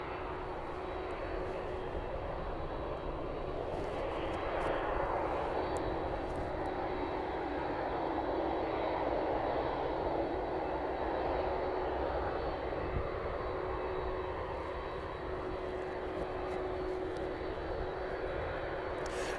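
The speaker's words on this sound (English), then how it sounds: "Those engines coming alive now." Boeing 767 jet engines spooling up before taxi at East Midlands Airport, a steady distant roar and whine holding level over the evening airfield, with no talking.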